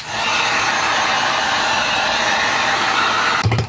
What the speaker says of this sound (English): just take the heat gun, just move the heat gun around.